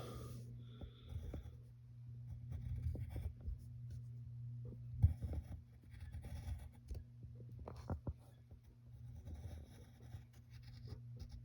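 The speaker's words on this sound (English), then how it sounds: "Then you shade the arm in like that." A pencil scratches across paper while shading Goofy's arm in a drawing, soft close strokes in uneven bursts over a faint low steady hum.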